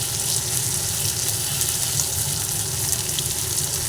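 Green chilies and mixed vegetables fry in a pan with salt, giving a steady, dense sizzle that holds at an even level throughout.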